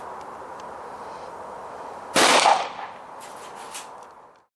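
A single sharp crack from a stage 2 tuned Weihrauch HW97KT .22 air rifle fired outdoors, loud and sudden over a steady background hiss, with a brief decaying tail afterward.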